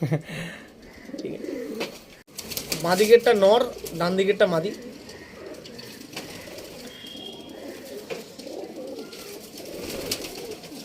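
A pair of pigeons, male and female, coo in a low rolling burst that swells briefly mid-way, with softer cooing continuing under a voice talking nearby.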